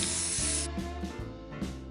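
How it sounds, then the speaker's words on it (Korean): Aerosol spray paint in several colours hissing from cans onto a container of water, a loud continuous spray for the first stretch that cuts off, followed by shorter bursts and light handling noises. "물을 통에 담아주고 여러 가지 색의 스프레이 페인트를 뿌립니다."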